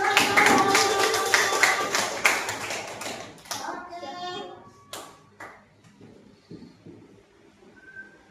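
Primary school children in a classroom clap together, a dense, lively patter of hands for about three seconds that thins into a few scattered claps and quiet room noise.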